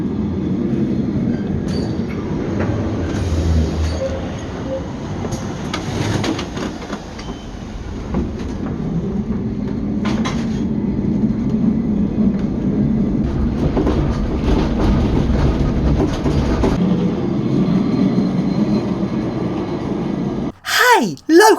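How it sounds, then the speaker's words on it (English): An old tram rumbles through a Lisbon street, a continuous close clatter of wheels on rails with metallic knocks and brief squeals, heard under someone talking throughout. "there's another form of old transport in Lisbon, which is the trams"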